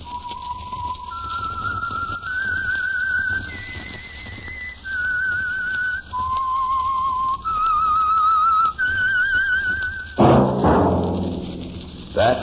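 A whistled signature tune of sustained, sliding notes opens a 1947 radio drama, clear and close, followed by a brief burst of other sound near the end.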